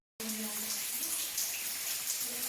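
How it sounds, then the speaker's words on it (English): Water drips and trickles steadily inside an iron mine, a constant wet splashing wash with a brief faint tone near the start. "This water dropping down."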